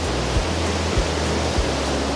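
A waterfall in a forest in Alsace gives off a steady broadband rushing roar, constant and fairly loud throughout, with a few soft low thumps recurring under it and no voices.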